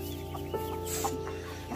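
A hen clucks in low, repeated murmurs close by, a steady soft brooding chatter with no talking.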